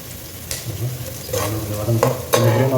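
Onions sautéing in a pan for coconut fish head curry, a close sizzle with a few sharp spatula scrapes and taps that grow slightly louder toward the end.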